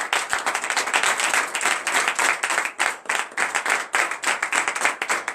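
A church congregation at a morning prayer service claps in acclaim of Jesus, a dense, rhythmic burst of many hands clapping together, loud and sustained throughout.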